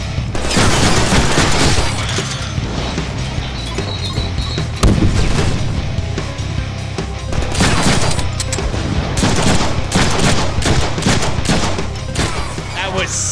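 Dense, sustained gunfire from the Deadpool video game, loud and continuous with rapid bursts, booms and crashes layered throughout.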